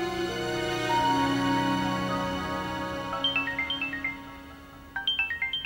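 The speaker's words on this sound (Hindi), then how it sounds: "किसका फोन है?" A mobile phone ringtone in a Pakistani drama scene: a sustained tonal melody gives way to a repeating chirpy electronic ring pattern, each burst of notes recurring in quick succession, fairly clear and with no talk over it.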